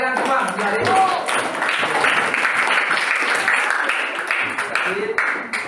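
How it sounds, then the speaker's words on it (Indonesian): Students in a classroom break into a sustained burst of applause, dense and steady clapping lasting several seconds, with a few voices mixed in. "tepuk tangan untuk kalian semua"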